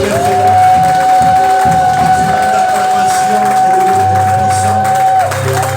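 Church congregation cheering and acclaiming Jesus Christ, a loud continuous roar of voices and clapping with a held vocal or instrumental tone running through it and low rumbling underneath.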